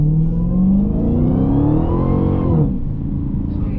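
A Dodge Challenger Hellcat Redeye Widebody engine rises in a deep rumbling rev while driving, pitch climbing for a couple of seconds before easing off, loud and close inside the car.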